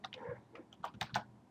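Typing on a computer keyboard: a short run of close, crisp key clicks in an uneven rhythm, with no voices.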